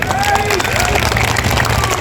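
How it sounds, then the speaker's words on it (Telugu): Crowd at a municipal election campaign rally clapping loudly, a dense continuous wash of applause mixed with babble and a voice over it, steady throughout. "గట్టిగొట్టిన చప్పట్లు"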